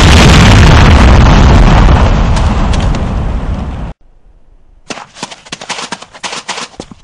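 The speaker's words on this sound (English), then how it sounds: "primary fire to place the C4 charge on a target. Then, move to a safe distance before detonating with your secondary fire." C4 charge detonating in the Command and Conquer Renegade video game, a loud, sustained roaring blast that fades out, then after a short silence, crackling debris and scattered pops.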